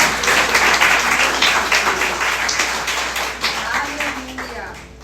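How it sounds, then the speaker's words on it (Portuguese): Applause from a church congregation during a Sunday service, steady dense clapping that fades slightly toward the end, with voices faintly mixed in. "Uma salva de palmas ao Senhor."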